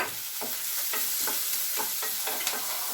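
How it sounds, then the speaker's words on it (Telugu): Potato curry with chilli powder just added, stirred with a spoon in a sizzling pan: a steady bed of frying hiss with repeated scraping strokes about every half second, close and fairly loud, no voices. "కొంచెం కారం వేసి కలుపుకొని"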